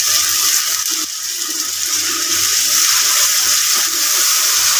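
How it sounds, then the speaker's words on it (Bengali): Tap water runs steadily into a mixer grinder jar as it is rinsed out after grinding tomato paste for a pabda fish curry, a close, continuous splashing hiss with no talk. "মিক্সিটা ধুয়ে একটু জল দিয়ে দিলাম।"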